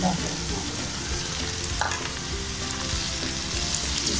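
A steady hiss and sizzle of garlic-ginger paste frying in a hot pan, with occasional stirring scrapes, continuous and close.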